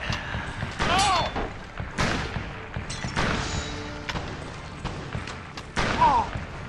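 Gunfire in a shooter game: several sharp shots spread irregularly over a few seconds, moderately loud against busy background game sounds and clanks.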